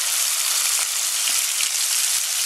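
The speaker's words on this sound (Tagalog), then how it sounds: "Then dito, lagyan po natin ng soy sauce." Soy sauce poured into a hot pan of frying oysters for adobo, giving a loud, steady, dense sizzle and crackle up close, with no talking.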